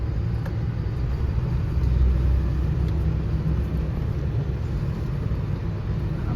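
Logistics truck driving out toward a parking area, a steady low engine rumble with road noise, heard from inside the cab with no talk.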